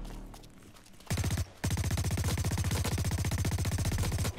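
Rapid submachine-gun fire from the online shooter Blacklight: Retribution, loud and close: a short burst, a brief pause, then a long sustained stream of evenly spaced shots.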